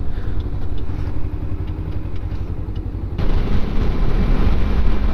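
A small 250cc motorcycle engine runs steadily at close range with a low, continuous rumble that grows slightly louder partway through, with no voices over it.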